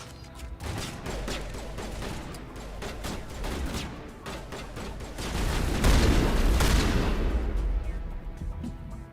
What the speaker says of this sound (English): let's check out the shotgun